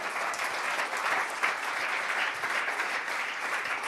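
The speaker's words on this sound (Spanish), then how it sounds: "Yo le doy un aplauso al Señor, hermano, claro que sí." Church congregation applauding during a Spanish-language worship service, a dense steady wash of many hands clapping throughout without a break.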